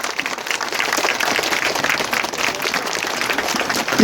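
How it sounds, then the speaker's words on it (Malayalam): A dense, steady wash of audience applause from a crowd at a health and product talk, many hands clapping together throughout the whole stretch and swelling slightly at the end. "ഇപ്പോഴും കൈയടിക്കുന്ന ആൾക്കാരുണ്ട്."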